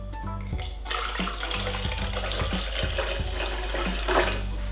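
Fresh coconut water, about 250 ml, is poured for a green smoothie, a steady splashing trickle with gurgling bursts that swells slightly near the end, close and alone.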